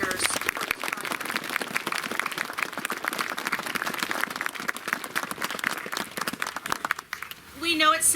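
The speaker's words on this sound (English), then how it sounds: "Can we give a round of applause for all of our partners?" A crowd at a ribbon-cutting ceremony applauds steadily for several seconds, dense clapping at a constant level, fading before a voice begins speaking at the end.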